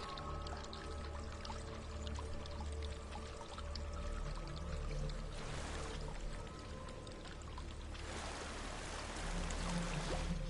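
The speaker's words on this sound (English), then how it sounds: "There's a waterfall." Waterfall in Hellblade: Senua's Sacrifice, a steady rushing, pouring wash of water that holds throughout and swells louder in bursts near the middle and end, moderately distant.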